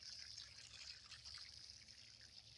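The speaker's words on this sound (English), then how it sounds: "Let's give it a good drink of water because it's been sitting in my truck for several hours." Water poured from a hose onto a newly planted fruit tree, a steady soft hiss and trickle that runs unbroken, faint and somewhat distant.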